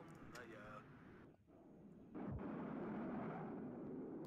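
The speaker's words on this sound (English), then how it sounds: "Those cluster bombardments are serious business." Cluster bomb bombardment in the real-time strategy game WARNO, a low rumbling burst followed by a sustained heavy roar of explosions, loud and close, with no one talking over it.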